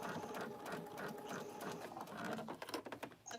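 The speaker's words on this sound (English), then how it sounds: "Sophie, the lady sewing behind the sewing machine, is TheYvetteRene." A sewing machine stitches paper-pieced butterfly blocks in a quilting session, a steady busy mechanical whir running continuously and close, then breaking into short bursts near the end.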